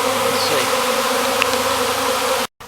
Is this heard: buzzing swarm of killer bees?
yes